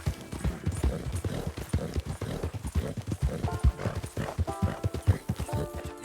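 Horse hooves in Red Dead Redemption 2 clip-clopping in a steady, brisk rhythm on firm ground, close and prominent, with a faint snort now and then and no talking.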